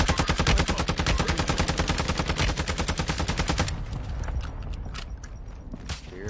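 Rapid automatic gunfire in a video game, a dense rhythmic burst of loud repeated shots for several seconds that then thins into scattered, fainter single cracks and distant firing.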